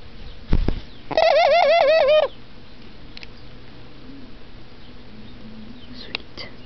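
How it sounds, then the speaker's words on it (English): A mourning dove gives a loud, close wavering coo lasting about a second, followed by faint scattered bird chirps and quiet background. "mourning dove's coming in, and so's the other one"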